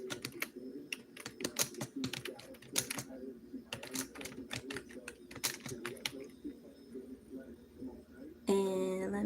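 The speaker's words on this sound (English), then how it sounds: "Now what I'm doing is typing a timestamp mark in here" Fingers tap quickly on a computer keyboard, a close run of irregular clicky keystrokes with short pauses, faint and alone until a brief different sound cuts in at the very end.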